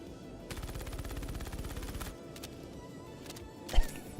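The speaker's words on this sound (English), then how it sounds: "It empties 25 bullets in 1 second." An LH86 pistol fitted with a quell suppressor in Star Citizen fires one fast, even stream of rounds for about a second and a half. A few scattered clicks and a single sharp thump follow.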